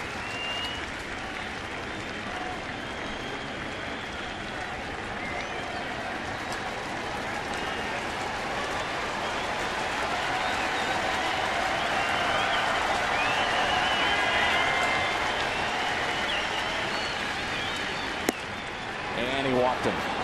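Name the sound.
baseball crowd cheering and applauding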